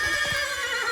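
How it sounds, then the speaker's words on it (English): Roach, the horse in The Witcher 3, gives a short, loud whinny up close over a steady game soundtrack drone. "He can always count on his horse Roach to help him"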